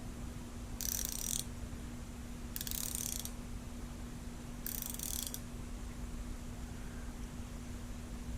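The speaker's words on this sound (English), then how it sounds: "Sometimes there's so little space that you need a ratchet." Three short bursts of ratchet wrench clicking, evenly spaced, each about half a second long, heard over a steady hum and faint background hiss.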